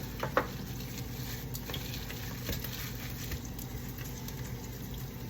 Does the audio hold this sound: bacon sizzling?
yes